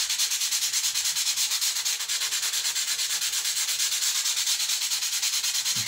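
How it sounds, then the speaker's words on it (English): Steady, even rubbing of sandpaper across a wooden girder for a model truss bridge, a light continuous scratchy hiss with a faint regular back-and-forth rhythm, close and alone. "A bit of time to dry, and a very, very light rub."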